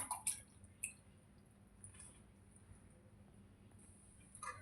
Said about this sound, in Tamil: இப்போ நம்ம ஆல்ரெடி வேக வச்சு வச்சுருக்க பாஸ்தாவை இதில் வந்து ஆட் பண்ணிக்கலாம்.